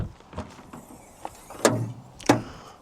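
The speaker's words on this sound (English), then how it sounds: "Let me just open the bonnet." Bonnet of a Porsche Cayenne Turbo 958.1 with a 4.8-liter V8 being opened: several light clicks, then two sharp, close latch clunks with a short metallic ring.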